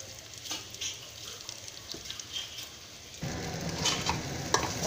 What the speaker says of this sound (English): now put rice and dal, mix, fry onion, put rice on it